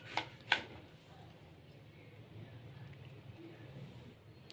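A knife cutting a brinjal four ways for stuffing, heard as two sharp, close cutting clicks in quick succession at the start, then a quiet room.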